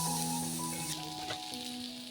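A soft, even sizzle of spices frying in a pan, quiet and steady over a short stretch.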